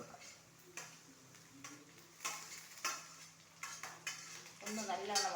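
Tomatoes stirred in a pan with curry leaves, a spoon scraping and clinking against the metal in separate strokes over a low sizzle, fairly close and quiet.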